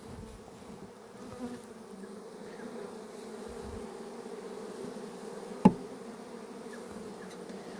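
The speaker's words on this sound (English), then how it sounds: "I'm sort of not expecting to because there's so many bees" A steady low hum of a honeybee swarm buzzing together, constant and moderately loud, with a single sharp tap partway through.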